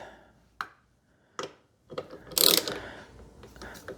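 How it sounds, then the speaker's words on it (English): Ratchet tightening a brake caliper bolt on a Kawasaki ZX12R motorcycle: two separate clicks of the mechanism, then a denser burst of close ratcheting, heard nearby without speech. "make sure the ratchet is correctly set. Tighten one bolt,"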